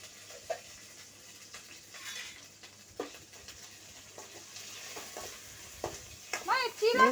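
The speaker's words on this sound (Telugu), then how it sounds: "అల్లం వెల్లుల్లి పేస్ట్ని మనకు పచ్చివాసన పోయేంత వరకు కలుపుకోవాలండి" Ginger garlic paste stirred and fried in a pan for okra curry on a home stove, a soft continuous sizzle with scraping stir strokes, occasional clatter, and a voice talking near the end.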